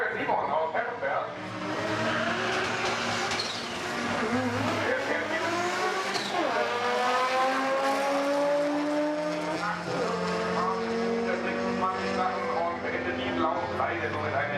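Drag and street cars, including a Corvette with a 606 engine, accelerate hard at the Hockenheimring, with engines rising through gears and some tire squeal, heard at a distance while a commentator speaks over it.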